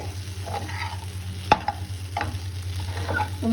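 Potato fry being stirred lightly in a pan on a low flame, with soft scraping and gentle sizzling and a couple of sharper clinks of the utensil against the pan, close and fairly quiet.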